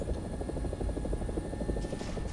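An AB 205 A-1 helicopter, the Italian UH-1H, flies in a video game with steady loud rotor thumping pulsing in a fast even rhythm, close and continuous with a constant turbine whine.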